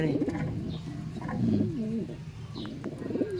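Pigeons coo nearby in soft, rolling, repeated calls, with some low background noise and faint voices around them.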